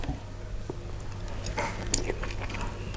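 Raw abalone served as Korean-style seafood sashimi is bitten and chewed close to the mic, giving soft, wet crunching and mouth sounds over a low steady background hum.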